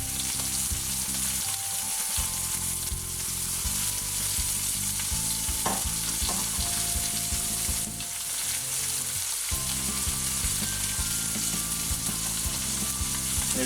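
Garlic, rosemary and a pat of butter sizzle and spit in a hot pan beside grass-fed beef, a steady close frying hiss with occasional utensil clinks over a low background hum.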